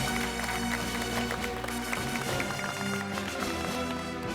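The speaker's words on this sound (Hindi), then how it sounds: "इस गणतंत्र दिवस की पूर्व संध्या पे हमारे देश के लिए जोरदार तालियां बजाइए" An audience claps loudly and continuously for a country's Republic Day eve, a dense steady applause filling the whole stretch, with music and some voices mixed underneath.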